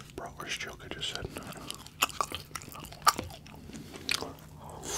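Chili cheese fries, meat lovers poutine and a cheddar bacon burger being chewed close to the mic, with wet bites and sharp crunchy snaps coming in uneven bursts, while a soft whispery voice and quiet mouth sounds run underneath.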